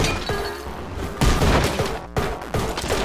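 Heavy enemy gunfire in a scary video game, dense loud volleys of shots and booms crashing continuously with a brief gap before another burst.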